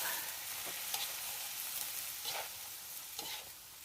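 Water hyacinth (eceng) frying in a pan at an outdoor hut by a rice field, a steady close sizzle with periodic stirring scrapes roughly every second, no talking.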